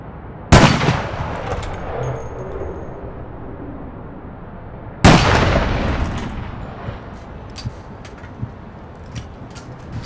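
Two sharp, loud gunshots ring out about four seconds apart in the online game APB Reloaded, each trailing into a reverberant decay, followed by fainter scattered pops and clicks.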